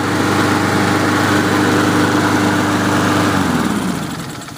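A Honda lawn mower engine running loud and close in a steady, buzzing drone, then slowing and fading near the end as it winds down.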